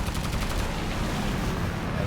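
Aircraft guns in a WWII flight video game fire a rapid burst of clattering shots at the start, then fade into a sustained rumble of engine noise.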